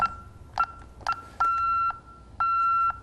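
Security alarm keypad for burglar, fire and carbon monoxide detection gives several short beeps as keys are pressed, followed by two longer sustained tones, loud and close with no talk.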